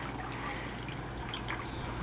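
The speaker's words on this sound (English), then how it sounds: "you hear the dripping of the water because somebody left" Water dripping and trickling at a harbor, a soft continuous liquid patter with faint scattered drips over low steady background noise, quiet and without speech.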